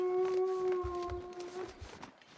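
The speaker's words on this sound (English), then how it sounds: "Alright, why is he howling like that?" A wolf in The Long Dark lets out a long, mournful howl that holds a steady pitch before trailing off, faint and somewhat distant, with soft thumps beneath it.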